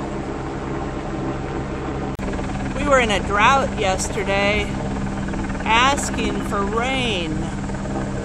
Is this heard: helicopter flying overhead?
yes